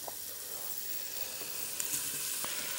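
Onion, potatoes and pumpkin sizzle in a soup pot, a steady, close, bright hiss of frying with a few faint pops and no talking.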